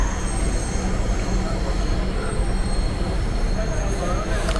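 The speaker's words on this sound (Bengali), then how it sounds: "আরেকটি ট্রেন পাস করে যাচ্ছে," A Dhaka metro rail train passes close by in a steady, loud rushing rumble with faint wheel squeal, continuous throughout without speech.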